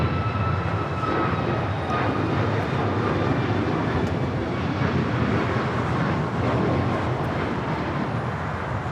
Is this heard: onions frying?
no